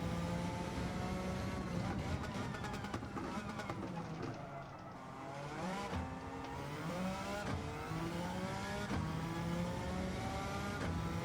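Suzuki Escudo Pikes Peak race car in Gran Turismo 7, its engine roaring steadily at high revs with repeated rises and falls in pitch through gear shifts, loud and continuous throughout.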